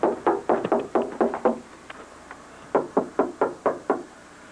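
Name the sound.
knock at a door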